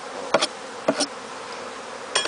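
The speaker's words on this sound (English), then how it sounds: "since we have bees on the bottom of the box" Honeybees around a hive box, with a faint steady background hum and a few short buzzes as bees fly close past, no talking.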